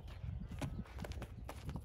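During groundwork training, a horse moves on the ground with a few soft, uneven hoof thuds at close range, and faint rustling between the steps.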